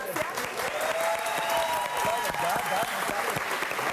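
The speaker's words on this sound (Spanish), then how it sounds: "¡Un aplauso!" Crowd at a live celebration at a bar and grill applauds steadily, a full wash of clapping with voices and cheers threaded through.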